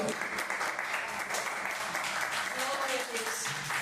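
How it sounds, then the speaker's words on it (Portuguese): Church congregation applauding in praise during a worship service, a steady wash of many hands clapping throughout at moderate level, with faint voices underneath. "as palmas louvam ao Senhor"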